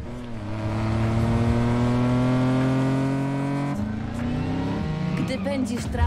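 Nissan Skyline engine in the racing game Need for Speed Payback, a loud steady revving drone with climbing harmonic pitch, briefly dropping near the four-second mark as it shifts before revving up again.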